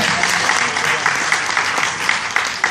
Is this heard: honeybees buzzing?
no